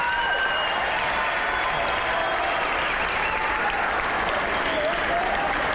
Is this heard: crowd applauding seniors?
yes